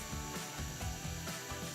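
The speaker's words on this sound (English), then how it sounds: "Use your jigsaw to cut the hole in the MDF." A jigsaw cuts an outlet hole in an MDF panel, giving a rapid, buzzing reciprocating rasp with rhythmic surges, close and continuous.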